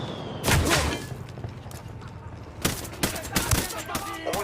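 Gunfire in the tactical shooter game Ghost Recon Wildlands, with a sniper firing on the squad: several loud, sharp shots in irregular bursts, some close together, over a steady background of game ambience.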